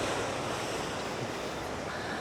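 Strong wind at the seaside at Masanga Point in General Nakar, Quezon, roaring as constant, loud buffeting across the microphone, with surf blended into the rush and no break throughout.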